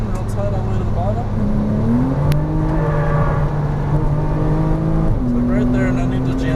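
A Porsche Cayman R is driven hard on a track, its engine droning loud and steady from inside the car while the pitch climbs under throttle and shifts, and someone talks over it.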